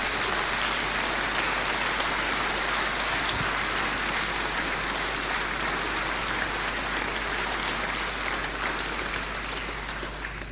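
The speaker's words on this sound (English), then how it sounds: "I wanted you to give a round of applause for the British police" A hall audience at a British Constitution Group talk gives a long, steady round of applause, a dense even wash of many hands heard from some distance, with a low constant hum underneath.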